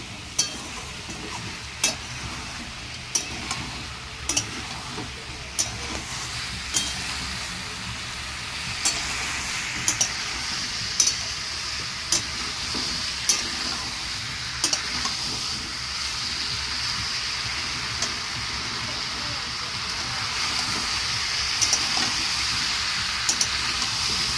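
Curry sautés in a pan after a splash of water is added, a soft continuous sizzle and bubbling under repeated sharp taps and scrapes of a spoon against the pan that recur through the whole stretch.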